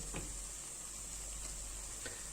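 Mushrooms sauté in oil in a pan for a cream soup, giving a steady, even sizzle that stays fairly quiet throughout, with a couple of faint clicks from stirring.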